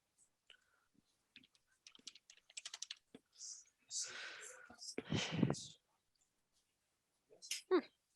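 A Google search typed on a computer keyboard, bursts of quick light key clicks close by, interspersed with a soft low voice talking over and between the keystrokes.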